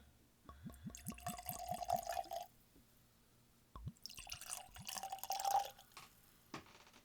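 Lonach 11-year-old whisky poured from a bottle into a glass: a quick run of rhythmic glugs rising in pitch, a pause, then a shorter second pour, close and clear with no talking.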